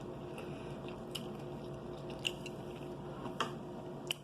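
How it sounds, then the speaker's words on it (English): Someone eats vegetables in a close-miked mukbang, with soft wet chewing and a few sharp crunching bites spaced a second or so apart over a low steady hum. "I don't know if you can hear that crunch."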